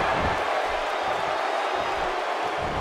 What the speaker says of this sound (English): And by the sound of this crowd tonight,